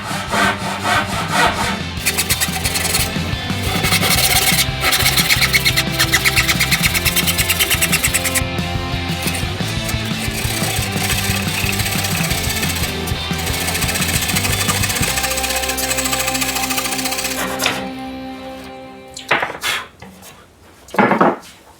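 Power saw rasps through wood while notching a king size wooden bed frame, a loud continuous cut lasting most of the stretch with shifting pitch, then winding down into a few scattered knocks and clatters at the end.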